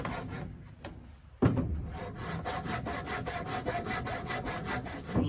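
A small 6-inch Milwaukee saw cuts through wood at an angle at a cabin build, giving a close, steady rasping stroke rhythm that continues without pause after a few knocks at the start.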